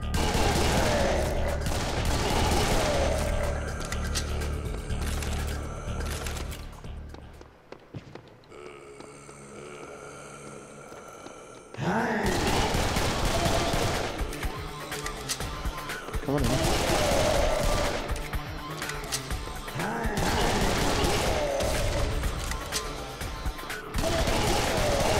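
Shotgun blasts from the first-person shooter Serious Sam 3 BFE, loud repeated bursts of gunfire in dense combat with a brief quieter break in the middle, a voice talking over the action.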